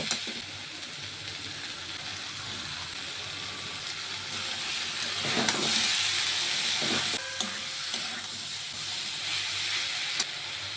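Paneer sizzling in a hot pan with turmeric and salt, a continuous steamy hiss and crackle at moderate level with a brief swell of sizzling midway, close and steady.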